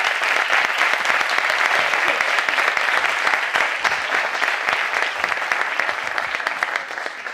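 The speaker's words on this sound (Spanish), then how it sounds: "un aplauso" An audience at the close of a forum claps in steady, dense applause that holds at an even level from start to finish.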